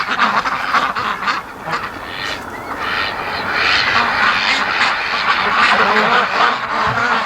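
A dense, steady chorus of Muscovy ducks in their pen carries on without pause, overlapping calls filling the whole stretch at close range.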